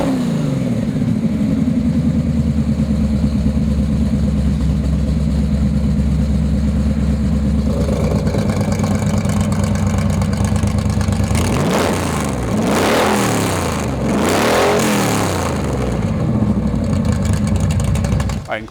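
A 1979 Trans Am Pro Touring idles with a loud, deep, lumpy rumble, then the engine is revved several times in sharp rising bursts before settling back, close to the car.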